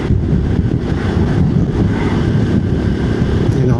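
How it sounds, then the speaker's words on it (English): Strong wind buffeting the microphone while riding a Honda Supercub on a windy day, a continuous loud low roar with no talking. "because it is quite windy today."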